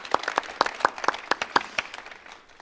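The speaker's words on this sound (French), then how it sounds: "Un tonnerre d'applaudissements s'il vous plaît pour Jacques de la Guillonnière." Applause at a French entrepreneurs' business meetup: a modest crowd claps in a steady, fairly sparse patter of distinct hand claps that thins out toward the end, with no voices over it.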